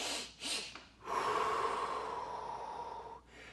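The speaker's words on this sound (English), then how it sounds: "go into longer exhale breathing, maybe a double inhale, exhale" Breathing pattern of a quick double inhale, two sharp sniffs through the nose, followed by one long, steady, audible exhale, close and alone.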